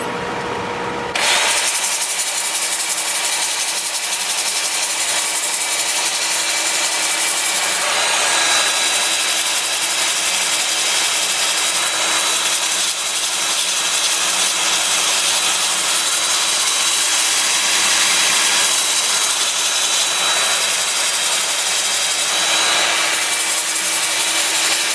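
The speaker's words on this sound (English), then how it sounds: "I'm going to have the lathe spinning in reverse at about 340 RPM" Sandpaper rubs black walnut on a wood lathe spinning in reverse at about 340 RPM, a loud, steady, close hiss with a faint motor whine underneath, starting after a brief quieter moment and running continuously.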